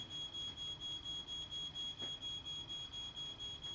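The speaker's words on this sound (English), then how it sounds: "The ground floor smoke alarm activates." A ground-floor smoke alarm set off by a fire with a burning wicker chair beeps in a rapid, steady repeating pattern, high-pitched and piercing, with no voices.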